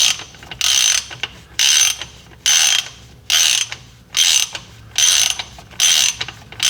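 A ratchet wrench reinstalls the drain plug on a Kia Sportage AWD rear differential: close, loud bursts of rapid clicking, about seven strokes in an even rhythm with short pauses between, no voices.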